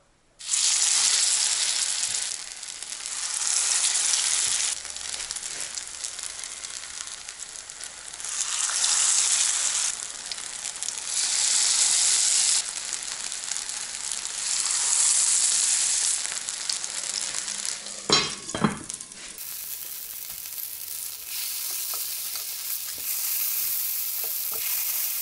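Pollock and cottage cheese cutlets sizzle steadily in a frying pan, a loud continuous hiss with surges and a brief scraping clatter of turning near the end, no talking.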